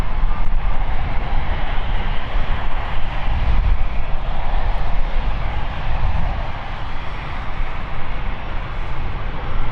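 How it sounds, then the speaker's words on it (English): A Swiss Bombardier CS100 jet arriving from Geneva at London City Airport gives a loud, continuous low engine rumble and roar that holds steady and eases slightly near the end, with no voices. "This is Bombardier CS100"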